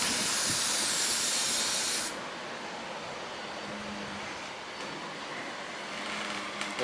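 Carb cleaner sprays in a close, loud continuous hiss onto the parts of a 1965 Honda C100 carburetor for about two seconds, then stops, leaving a quieter background rush.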